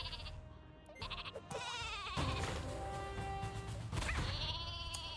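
The sheep weapon in the Worms W.M.D video game bleats loudly and continuously, a wavering nasal cry layered over busy game sounds and music.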